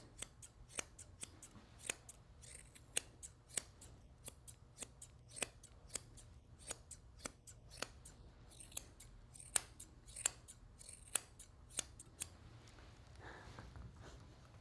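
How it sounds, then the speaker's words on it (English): Grooming scissors snipping through thick dog hair at a grooming salon, a long run of sharp, close, crisp cuts at a quick irregular rhythm over quiet room tone. "You can hear how thick this hair is by the way the scissors are chunking."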